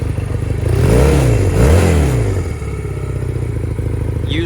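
2006 Honda Nighthawk CB250 motorcycle engine running close by, revving up twice with rising and falling pitch before settling back to a steady, even idle.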